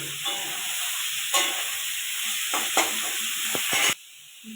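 Cauliflower hits hot oil with cloves, cardamom and cinnamon, giving a loud, steady sizzle broken by a few stirring clatters before it drops off sharply near the end.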